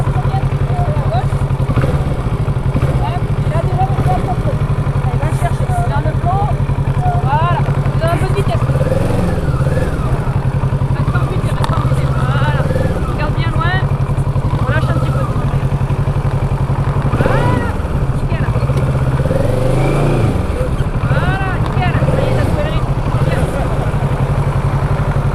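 A motorcycle engine runs loud and close throughout low-speed maneuvers through a tight course, its pitch rising and falling with repeated throttle blips and clutch work, while someone talks over it.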